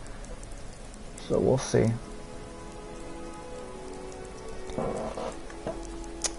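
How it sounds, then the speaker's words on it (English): Steady rain patters continuously in the background of the video game Skyrim while someone talks briefly, with a couple of soft thumps in between. "It is cool, but the rain's kind of annoying in the background."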